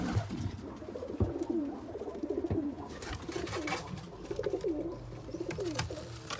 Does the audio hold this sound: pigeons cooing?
yes